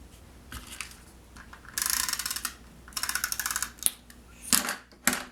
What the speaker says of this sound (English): you just run your tape runner adhesive along the back